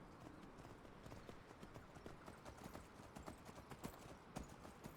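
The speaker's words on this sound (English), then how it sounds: "Riding a horse in a swamp, typically not a good idea" Horse hooves clopping steadily through a swamp in the video game Skyrim, a continuous run of close, soft, uneven footfalls over a damp ambient bed with no talk.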